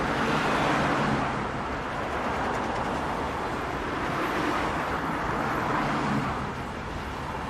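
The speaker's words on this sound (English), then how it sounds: "I think that noise is supposed to be closer to the highway." Highway traffic in the Train Sim World video game gives a steady, broadband roar that swells and eases slightly throughout, a constant wash of road noise with no talk.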